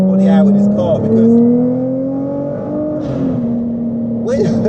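A 660bhp Nissan GT-R R35 accelerates hard, its engine a steady droning note that climbs gradually in pitch and stays loud and close throughout, with a person talking over it.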